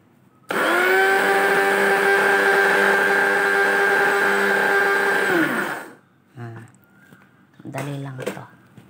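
An electric grinder whirs loudly through coffee beans for about five seconds, a steady high motor whine that stops abruptly, followed by a person speaking.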